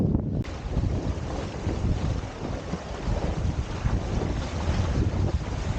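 Strong wind at sea buffets the microphone while windsurfing on an old board off Greece, a loud continuous low roar with gusting rumble and water rushing beneath, steady throughout with no voices.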